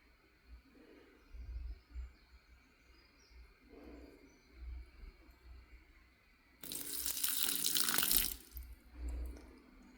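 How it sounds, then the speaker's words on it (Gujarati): Water poured onto potted plants, including a lemon tree, during a morning routine: soft splashes at first, then a louder gush of flowing water near the end, with faint birds in the background. "પાણી સીંચું છું"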